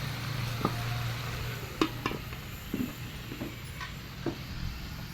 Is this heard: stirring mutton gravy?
yes